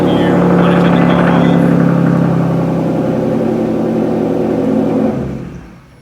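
A Hyundai Genesis Coupe with a manual transmission runs after a remote start, its engine a loud, steady drone that holds for about five seconds and then quickly dies away.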